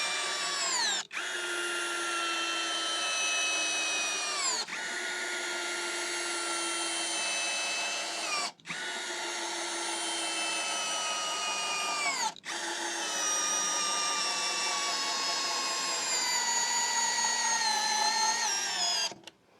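A Hyper Tough 12 volt cordless hammer drill bores through a wooden board in second gear with a loud, steady motor whine. It runs in several long bursts of three to four seconds, each broken by a brief stop, with the pitch sagging under load.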